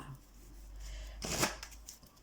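Tarot-style reading cards are shuffled at close range in one quick riffling burst lasting about a second, against a quiet room hum.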